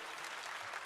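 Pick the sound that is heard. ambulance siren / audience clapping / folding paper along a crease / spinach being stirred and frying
audience clapping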